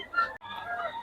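Chickens at a farm cluck and call close by in a brief burst with a short pause midway, fairly loud and without talk.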